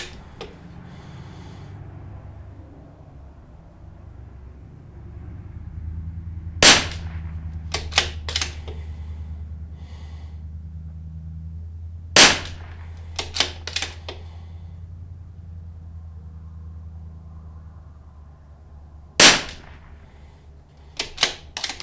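A CZ457 .22lr rifle on an MDT GRND bipod fires outdoors, with a few sharp, loud, widely spaced cracks and some smaller clicks and handling noises between shots.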